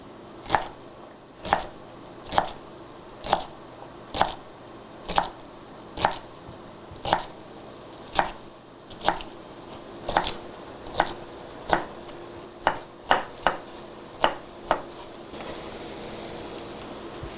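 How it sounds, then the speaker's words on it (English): Knife chopping aromatics on a cutting board for a homemade chicken pot pie, about twenty sharp, evenly spaced close chops that quicken slightly near the end, with no voices over them. "So that's really most of the chopping."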